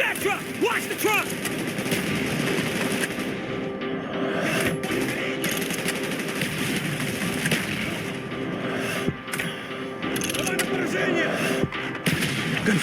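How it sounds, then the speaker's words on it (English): Gunfire in the Call of Duty Black Ops campaign, continuous rattling shots and explosive thuds over a dense battle din, with in-game voices shouting through the mix. "Gunfire's drawing attention."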